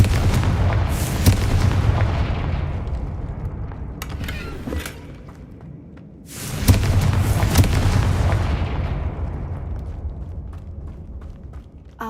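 A Confringo fire spell explodes in the Hogwarts Legacy video game: two heavy booming blasts with long rumbling decays, the second following a brief lull, loud and close.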